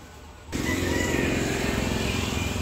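A motorcycle engine starts up abruptly and holds a steady, close, rumbling idle-to-rev drone as the rider prepares to leave a seaside home, no talk over it.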